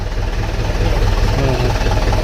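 A Swaraj 575 tractor diesel engine runs steadily in a village for a first-time drive, a loud continuous low rumble throughout with faint voices in the background.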